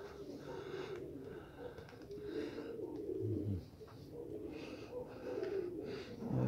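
Armenian tumbler pigeons coo in a winter setting, soft low murmuring calls repeating close by over a steady outdoor background with occasional wing and movement noises.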